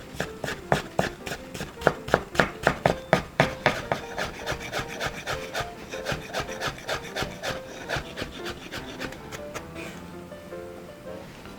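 Vegetables being minced finely with a knife on a cutting board, a quick run of sharp rhythmic chopping taps that continues for about ten seconds before stopping, close and clear.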